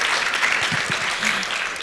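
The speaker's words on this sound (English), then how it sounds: "can we give a big applause for all the ladies in the world?" Brief burst of audience applause at a women-in-racing session in a hotel function room, dense clapping lasting under two seconds with a few low voice sounds mixed in.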